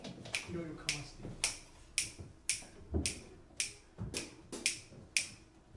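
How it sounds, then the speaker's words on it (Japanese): A metronome clicking at an even, moderately quick tempo, crisp regular ticks recorded fairly close over a faint room background. "ちなみにこれが僕のメトロノームです。 僕はこのリズムを聴いて練習してます。"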